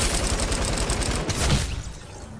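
Rapid automatic gunfire with heavy recoil in Fortnite, a loud, fast burst of shots lasting over a second before trailing off into echo, with no talking.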